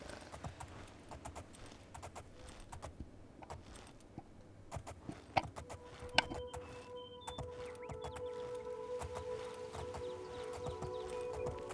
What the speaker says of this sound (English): been a while since we've taken Primary Rule's horse for a drive